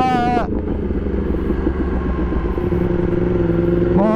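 A 2020 Yamaha MT-10 SP fitted with an Akrapovic exhaust, ridden on a test ride, holding a loud steady engine drone with wind rush, while a voice comes in briefly at the start and end.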